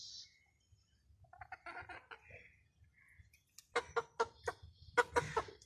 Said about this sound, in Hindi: ये मुर्गा